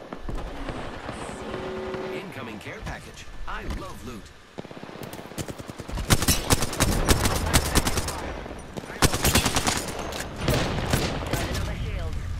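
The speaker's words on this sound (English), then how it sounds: "I am taking fire, friend." Video game gunfire: bursts of rapid automatic shots crackle loudly in the second half, after quieter game ambience, with a voice talking over parts of it.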